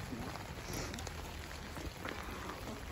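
Steady rain falling outdoors, a continuous hiss of drops with some low rumble, fairly close and even throughout.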